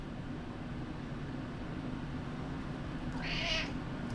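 Dutch the cat lets out a single short meow near the end, fairly close, over a steady low indoor hum with no talking.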